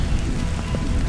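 Rain falls steadily at a flood-damaged creek outdoors, a dense close patter with low rumble underneath and no clear voice over it.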